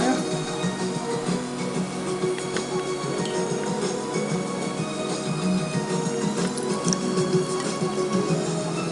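Vinegar poured over sliced potatoes and onions, a steady wet trickling and squishing texture that runs evenly throughout, fairly close.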